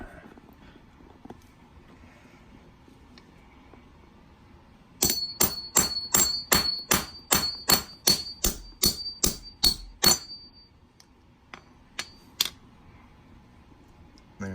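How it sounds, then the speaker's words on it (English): A hammer drives a steel punch through a 1969 quarter coin in a rapid series of about a dozen sharp metallic strikes with a ringing ping, then a few scattered lighter taps after a quiet start. "and drive it through with this hammer."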